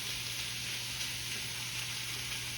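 Corned beef hash fries undisturbed in a pan, giving a steady, close, even sizzle that holds without a break; no one speaks.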